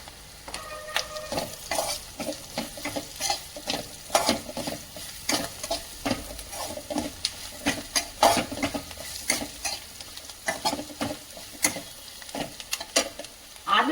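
Potato sabji with turmeric stirred in a frying pan, a close run of scraping strokes and clinks over a steady sizzle, no voices.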